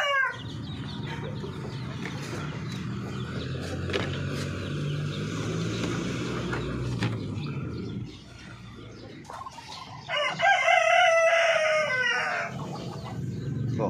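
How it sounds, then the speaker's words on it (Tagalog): Farm ducks waiting to be fed keep up an ongoing chorus of clucking and calling. A louder, harsh, drawn-out call stands out near the end. "Nakatingin sa atin yung mga bibi natin mga Pinoy nagpapahiwatig na pakainin ko na daw sila."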